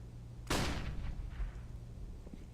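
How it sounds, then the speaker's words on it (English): A flashbang grenade goes off in a competitive CS:GO match: one sudden, loud bang with a ringing tail that fades over about a second. "Flashbang."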